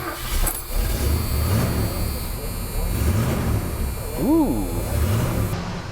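A 1979 Ford Mustang engine cranks over and settles into a rumbling idle, then gives one short, sharp rev near the end, with a person speaking over it.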